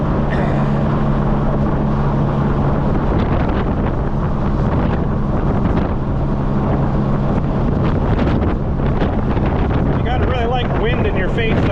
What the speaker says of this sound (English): So it's definitely got a pile of wind coming at you all the time.